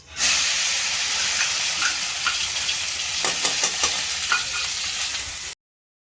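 Masala paste fries in oil with cumin and curry leaves for a bajari amti, a steady close sizzle and hiss running throughout with occasional spoon scrapes and small pops, no talking.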